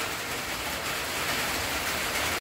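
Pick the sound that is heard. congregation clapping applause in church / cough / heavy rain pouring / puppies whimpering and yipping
heavy rain pouring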